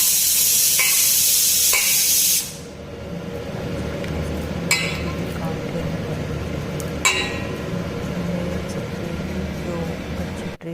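A fenugreek laddu mixture is worked by hand after milk is added, heard as a soft, steady rubbing and squishing close by, with a few light clinks against the bowl. A loud hiss fills the opening seconds.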